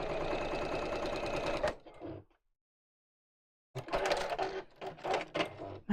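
A domestic sewing machine runs in a steady, dense burst while sewing up a hole in a bag lining, stops for about two seconds of silence, then restarts in short uneven bursts.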